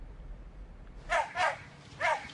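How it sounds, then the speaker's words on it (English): An eleven-year-old black and white dog chasing squirrels, giving three sharp barks spaced about a third of a second apart after a quiet start, moderately distant. "The black and white dog you see is 11-year-old Coco chasing squirrels just recently"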